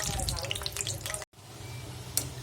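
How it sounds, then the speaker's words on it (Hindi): Peanuts frying in a pan, a steady crackling sizzle with scattered pops and stirring, close by, briefly cut off midway. "एबे मु नेइची टिके पीनट्स। तो पीनट्स को टिके हमें फ्राई कर दवा।"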